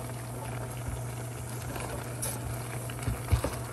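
Cinnamon-spiced sauce simmering in a pot, heard up close: a steady bubbling wash with scattered soft pops and small bursts, a couple of louder pops near the end, with no talking.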